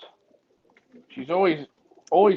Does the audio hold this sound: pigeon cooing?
yes